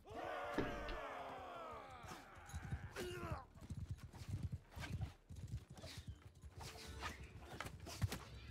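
Cavalry horses in Mount & Blade II: Bannerlord gallop through a battle with steady clip-clop hoofbeats, a whinny near the start and crowd-like battle shouts behind, filling the scene at a constant level.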